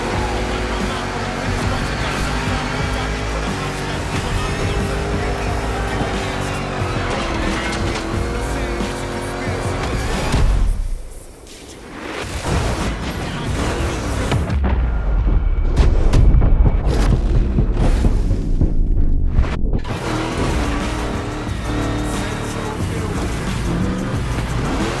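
Race car engine of a Mustang GT in The Crew Motorfest, a loud sustained roar with shifting revs and tire noise through most of the stretch, briefly dropping away before surging back, with faint voice at times.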